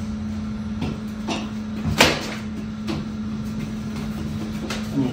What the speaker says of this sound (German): Dann schließen wir die Tür.